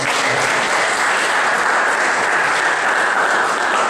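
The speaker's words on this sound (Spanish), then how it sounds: "Le damos un aplauso a Frank" An audience applauds loudly and steadily, a dense continuous wash of clapping from many hands at close range with no pauses.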